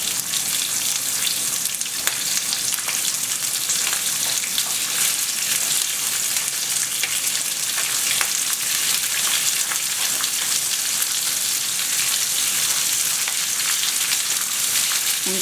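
Shrimp frying in a pan over a flame, a dense, steady crackling sizzle with fine spitting pops, close and continuous throughout.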